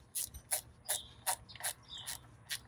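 A ratchet clicks in short bursts while snugging valve cover bolts on a 2012 Chevrolet Cruze Eco 1.4, about seven quick, evenly spaced clicks, close and crisp with no talking.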